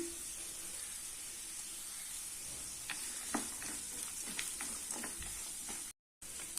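Vegetables with salt and asafoetida sautéing in a pan for lemon rice, a soft steady sizzle and hiss with occasional light spatula taps, fairly quiet and without speech.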